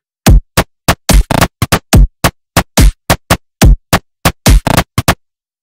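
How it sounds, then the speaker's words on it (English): Short clean percussive samples in a music production project play one after another, about twenty crisp dry hits in a loose rhythm with silence between them, loud and up front. "It's just like these little percussive sounds."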